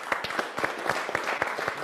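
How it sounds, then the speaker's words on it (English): Applause for a speaker named Silvio at a 2021 finals and awarding event, a fairly small group of distinct rhythmic claps, moderately close and steady for the whole span. "Applause for Silvio"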